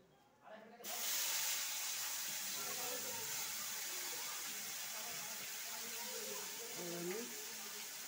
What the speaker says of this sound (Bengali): এটা আমি তেলে দিয়ে দিচ্ছি।